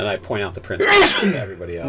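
A single sudden sneeze bursts out mid-conversation during a live tabletop Dungeons & Dragons game session, loud and close, with a voice talking just before and after it.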